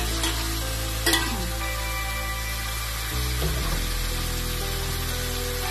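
Adobong pork liver with kangkong sizzles loudly in a pan, a steady frying hiss with clanks and scraping as it is stirred, and a burst of fresh sizzle partway through as more is added.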